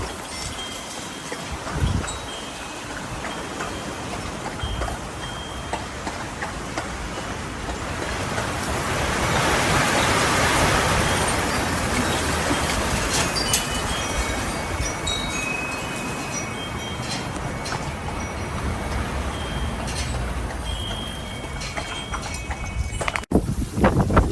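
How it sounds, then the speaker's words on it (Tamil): Strong Santa Ana wind, the dry devil wind of California, roaring in a steady broadband rush that swells to a peak midway, with gust-driven debris rattling and no speech. "காற்று அடித்த குத்தாட்டத்தை தான் நம்ம இன்றைக்கி பார்க்க போகிறோம் பார்த்துட்ருக்கோம்"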